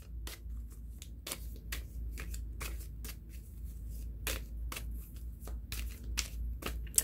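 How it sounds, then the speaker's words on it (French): Tarot cards shuffled by hand for a reading, a steady run of crisp riffling flutters and snaps over about seven seconds, close and alone with no talk. "je vais tirer les cartes à ma façon"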